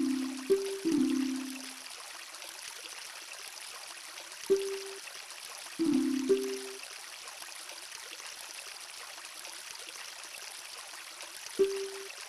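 A waterfall in The Legend of Zelda: Majora's Mask gives a steady, soft rushing hiss throughout, broken by a few short, low electronic game tones.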